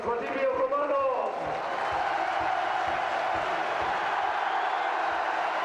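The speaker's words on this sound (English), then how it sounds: "a big round of applause, if you will, for Hearts majority shareholder, Vladimir R" A broad wash of football crowd applause and cheering for Hearts FC fills the space continuously, with a voice briefly heard at the start.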